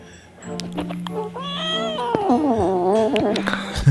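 Cat meowing loudly from an animal eating video playing back, with drawn-out, wavering meows in a rising and falling sequence, close and clear over a steady low hum.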